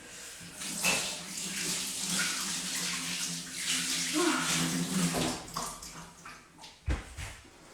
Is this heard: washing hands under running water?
yes